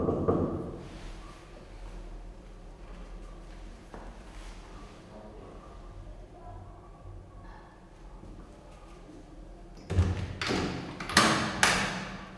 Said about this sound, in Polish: także będziemy pukać